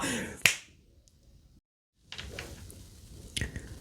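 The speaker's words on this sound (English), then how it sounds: "I'm going to snap my fingers" A single sharp finger snap rings out close and crisp, followed by near silence and a soft room hush, with a fainter click near the end.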